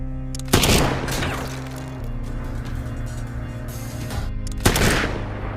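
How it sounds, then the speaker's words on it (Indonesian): Two loud, sharp rifle shots ring out about four seconds apart in a Russian war film sniper duel, each crack trailing into a long reverberant decay over a low, steady rumble. "Igora akan menembak mortir dari kejauhan"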